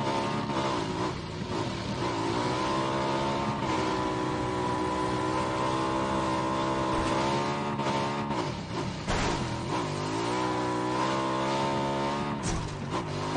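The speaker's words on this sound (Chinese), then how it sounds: "放心，坐我摩托车稳定很" A motorcycle engine drones loud and steady while riding in the PUBG battle royale game, its pitch rising and falling as the bike speeds up and slows down, with no pause across the stretch.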